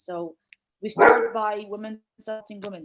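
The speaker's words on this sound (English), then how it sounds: "I'm sorry for my dog; he's barking." A dog barks in the background during an online webinar, with short barks overlapping someone speaking throughout.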